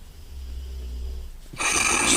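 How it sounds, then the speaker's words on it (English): A large crossbreed dog snoring loudly indoors, a low steady rumbling drone, followed near the end by a sudden louder, broadband rush of noise. "we have a horse-crossed dog over there that's snoring really loud"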